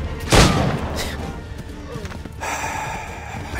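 Gunfire from the Assassin's Creed 3 video game during a horseback chase: one loud sharp shot near the start, then fainter shots and game effects, with hoofbeats and a voice talking.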